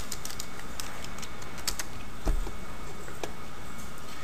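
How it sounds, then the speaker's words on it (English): Brief flurry of keystrokes on a computer keyboard, light rapid clicks close by with one slightly louder tap, over a steady background hiss. "type in bitmap."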